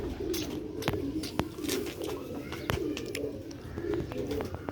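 Pair of Sialkoti Ali wala pigeons cooing close by, soft repeated throaty coos in a loose rhythm, punctuated by sharp clicks and light handling sounds.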